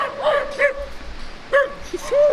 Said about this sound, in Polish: Pieski są takie kajtki. Poszczekają, chcą pozaczepiać, ale nie podejdą.